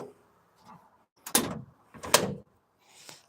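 The back door of a 1950 Plymouth is swung and shut, giving two solid, close metallic thuds with a latching clunk, between quieter handling noises.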